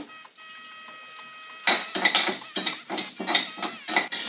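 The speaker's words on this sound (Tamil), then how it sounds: "இப்போ அடுத்ததாக இந்த கருப்பு உளுத்தம் பருப்பை போட்டு நம்ம நல்லா பொரித்து எடுத்துக்கணுங்க." Black urad dal fries in a generous pour of sesame oil, its quiet start giving way to loud, rhythmic scraping and clinking of a spoon against the pan over a continuous sizzle.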